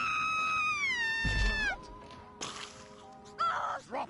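A cartoonish cat in the Destroy All Humans video game lets out a long, wavering meow that bends downward, followed by a couple of shorter, fainter mews and game noises.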